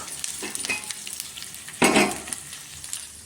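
Urad dal, cumin and fenugreek tempering in hot oil, a close crackling sizzle with scattered pops and a louder burst of spattering midway.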